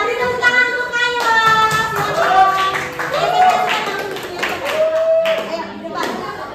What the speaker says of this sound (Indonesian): Oke, Kaila, beri tepuk tangan untuk Kaila.